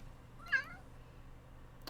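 A single short cat meow from a lively pet cat indoors, fairly faint against a quiet room, followed by a brief soft click near the end.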